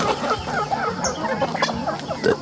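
Naked neck roosters cluck and murmur in short, uneven calls at a moderate distance, with faint background noise around them.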